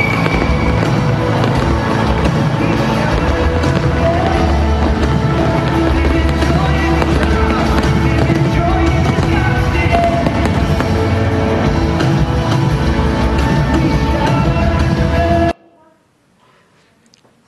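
Fireworks are set off after a church community celebration, producing a loud, dense barrage of bangs and crackles that runs for about fifteen seconds before cutting out abruptly.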